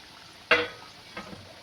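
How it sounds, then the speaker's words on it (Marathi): Green peas nuggets dropped into hot oil for deep frying, giving one sharp burst of sizzling that quickly fades into a quiet bubbling hiss with a faint second crackle. "2 ह्याच्यात आपले नगेट्स पूर्ण तळून होतील"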